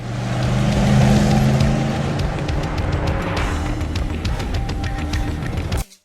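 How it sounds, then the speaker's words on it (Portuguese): A vehicle races at high speed in the Breaking Bad opening scene. A loud engine roar swells early, then holds steady with rattling, before cutting off abruptly near the end. "a gente vê uma calça caindo e um veículo em alta velocidade"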